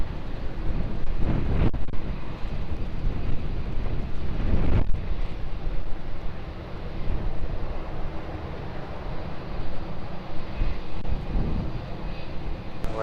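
Gusty wind at Lisbon Airport, blowing at up to 30 knots, buffets the microphone with a loud, continuous roar that swells and eases, with brief sharper gusts.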